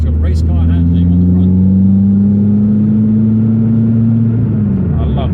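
A cammed, naturally aspirated Renault Clio 182 Trophy engine hums steadily from inside the car, a loud continuous drone with a slight pitch rise that drops near the end.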